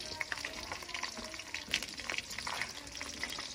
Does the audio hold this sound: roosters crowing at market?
no